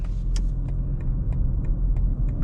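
Engine of a BMW M4 CS heard without active sound design, a steady loud low rumble from inside the moving car with faint periodic ticks over the drone.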